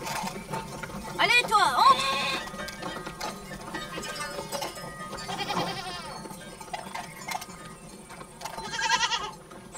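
Several goats bleat in short, wavering calls spaced a few seconds apart, with quiet background noise and faint clinking between them.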